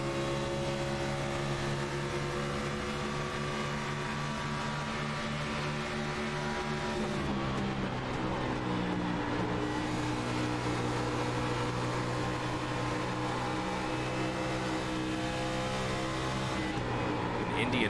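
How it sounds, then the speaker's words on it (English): Cup car engine on a lap of Indianapolis in a sim racing game: a steady, loud droning engine note that holds high, dips and shifts pitch midway as gears change, then climbs again, continuous throughout. "Riding on board currently with Julio Villalobos here in the 45 machine, just to get a little bit of an idea of what it's like to take a lap here around Indy"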